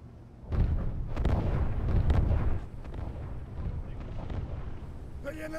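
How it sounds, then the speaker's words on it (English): Naval artillery barrage in a war video game, fired from a Black Sea Fleet light cruiser as fire support near a coastline: a loud rumbling burst of heavy booms for about two seconds, then a lower, rolling blast that keeps going beneath the battle sounds. "Black Sea Fleet light cruiser Vodoshilov is nearby. They are ready to provide us fire support."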